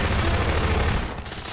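Mach 11 submachine gun firing in a Garry's Mod horror map, a loud rapid burst of automatic shots for about a second that then cuts off, with no talk.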